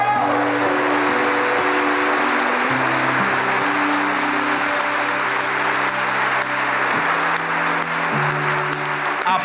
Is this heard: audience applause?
yes